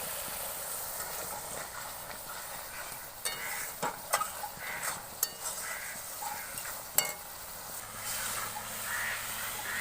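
Slit green chillies and spices fry in a pan for prawn malai curry, a continuous close sizzle broken by repeated scraping and clinking strokes of a spoon stirring against the pan.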